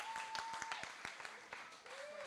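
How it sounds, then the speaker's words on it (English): An audience at a pitch contest at Cape Cod Beer claps for the contestants, with sparse separate claps over a voice that goes on talking, and the clapping thins out quickly. "Can we get a round of applause?"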